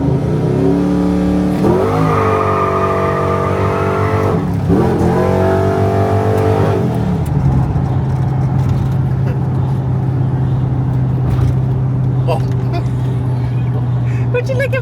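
Chevrolet single cab truck with a 6.2 V8 and a new tune pulls hard uphill, its engine note climbing in two loud rising sweeps before easing to a steady drone, with voices talking over it.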